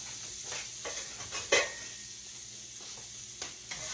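A spatula stirs and scrapes flour into pork loin gravy in a skillet, giving a soft continuous sizzle with a few light scraping strokes and one sharper clack of the utensil against the pan.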